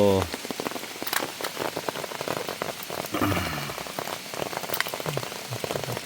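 Heavy rain pounds down on surfaces at a mountain forest camp, a dense, continuous patter of drops with scattered sharper splats throughout, and a brief voice near the start.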